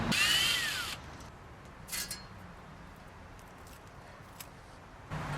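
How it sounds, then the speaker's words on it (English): Screws being undone from the metal bracket of a patio chair: one loud whirring burst of about a second, followed by near quiet with a few faint clicks and knocks. "So I'm gonna go ahead and unscrew this"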